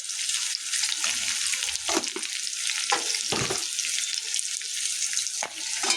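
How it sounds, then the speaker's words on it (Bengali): Whole spices temper in hot oil for a home pumpkin curry, a bright continuous hiss and spatter close by with a few sharper clatters of stirring, and no one speaks. "এই যে কুমড়ার তরকারি, এখানে কুমড়া আছে, আর মা ফোড়ন দেবে।"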